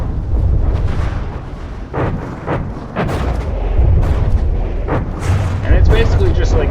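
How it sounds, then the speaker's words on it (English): Repeated explosions from Gauss weapons tearing into a ship in the From the Depths naval combat game, a dense rumble of booms and blasts with sharp bursts throughout, loud and continuous. "That must be the those explosions are coming from Gauss."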